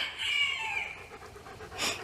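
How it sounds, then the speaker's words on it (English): Chickens at dusk cluck and call softly in a short, restless burst, fairly close, over a quiet outdoor background. "Chickens are getting ready for bed."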